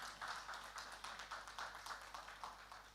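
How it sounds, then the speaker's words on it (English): A small audience at a hotel company event claps in a faint, sparse patter of distinct individual claps, fairly distant and thin rather than a full roar. "That deserves a round of applause."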